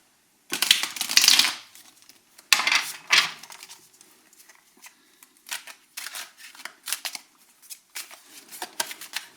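Crisp riffling bursts of cards being shuffled, a long flurry followed by a series of shorter, quicker riffles and taps, close and fairly loud.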